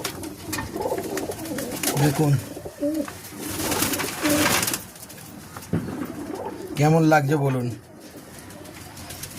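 Pigeons, mostly hens, coo in bursts among a loft of birds, heard close and fairly loud, with someone talking over and between the calls.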